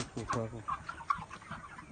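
Broiler chickens, 43 days old, cluck and murmur in a coop in short, busy bursts, close by and overlapping.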